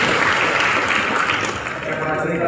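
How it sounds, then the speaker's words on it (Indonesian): A crowd breaks into loud, sustained applause, the thick wash of clapping rolling on evenly, with a voice heard among it. "Tepuk tangan sekali lagi yang paling meriah."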